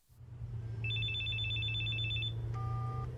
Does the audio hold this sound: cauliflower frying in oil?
no